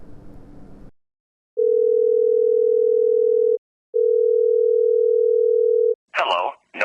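A telephone voicemail greeting ends in two long, steady beep tones of about two seconds each, separated by a short gap. Brief speech comes just before the tones and again right after them.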